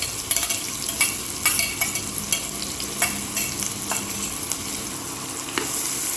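Onion with ginger, garlic and green chillies frying and being stirred in a pan over a medium flame, a steady close sizzle broken by repeated scrapes of the spoon, with no talk.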